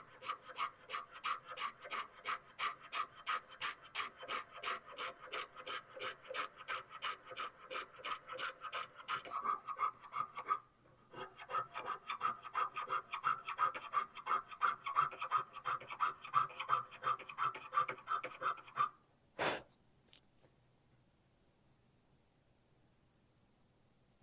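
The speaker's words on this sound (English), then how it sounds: "Yeah, it's a stand-up bandsaw." A stand-up bandsaw with a long blade cuts a metal Mudhorn emblem for a Mandalorian pauldron, giving a steady rhythmic rasping stroke after stroke. It pauses briefly, resumes, then stops with a final clunk before silence.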